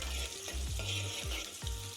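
Green chillies frying in oil with a pinch of turmeric stirred in, giving a steady close sizzle with a few scraping spoon strokes against the pan, no voices.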